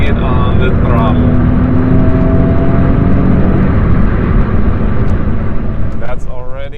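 Peugeot 406 coupe V6 engine pulling hard through a series of corners, a steady loud drone with engine tones that climb and hold throughout, while someone talks over the top.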